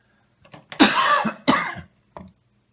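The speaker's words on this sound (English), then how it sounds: "Sorry about that cough." A few harsh coughs close by, two strong bursts followed by a short weaker one, with quiet pauses between.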